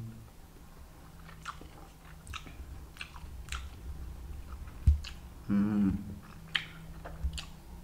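Tomong fruit with spicy salt and chili sauce eaten up close, soft crunchy bites and wet chewing, with a brief louder bite midway and a faint murmured voice.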